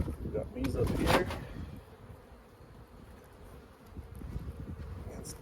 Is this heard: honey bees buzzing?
yes